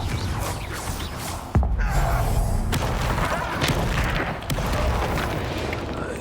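A Confringo fire-spell explosion in Hogwarts Legacy: a sharp thump then a low rolling boom that lingers, followed by a second fainter impact, with no talk.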